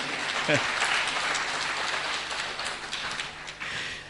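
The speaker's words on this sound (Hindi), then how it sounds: "अगर हां तो एक बार तालियां जरूर मारिएगा इस वक्त हॉल में।" A hall audience bursts into applause at a talk event, a broad, steady clapping with a short vocal cheer near the start that slowly thins toward the end.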